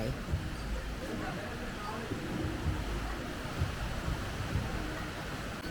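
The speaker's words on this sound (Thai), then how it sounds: "ได้ยินเสียงคลื่นชัดเจนเลย" Sea waves heard from a seaside hotel restaurant in Rayong, a continuous washing rumble of surf at a steady level with faint background murmur of voices.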